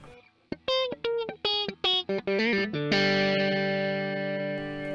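An electric guitar through a TubeDriver pedal set to very light distortion plays a run of short plucked notes, then lets a chord ring out, with a mild, gritty distortion coloring the tone.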